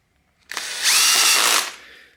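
Fake Makita impact driver overdriving screws with the wrong bit: a single loud, high-pitched whirring burst that rises quickly, holds for about a second, then winds down, heard alone.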